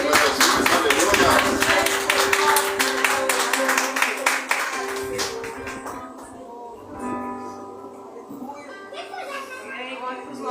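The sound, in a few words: applause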